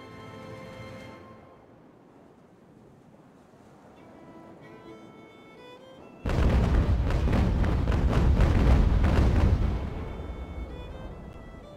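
Naval cannons roar in a sudden heavy broadside against a sailing warship in the Ultimate Admiral: Age of Sail game. Rolling booms continue for about four seconds after a quiet lull, then fade.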